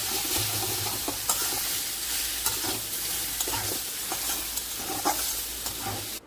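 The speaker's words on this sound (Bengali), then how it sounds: "আমি খুন্তি দিয়ে একটু রসুনগুলোকে নরম করে দেওয়ার চেষ্টা করছি" A metal spatula scrapes and stirs taro leaves and garlic frying in a pan, steady sizzle with repeated sharp scraping strokes, close and alone with no talk.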